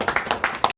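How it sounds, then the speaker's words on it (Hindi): Scattered audience clapping at a Lions club gathering, a brief burst of several distinct hand claps in an uneven rhythm, close and fairly loud, cutting off abruptly. "आप खुद अपने लिए भी तालियों से अपना स्वागत करें।"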